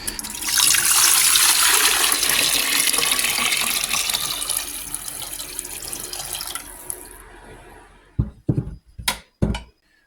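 Water runs through a carbon-filled coffee filter in a countertop water distiller setup, a loud steady rushing pour that slowly fades, then stops and leaves a few sharp knocks and clatters.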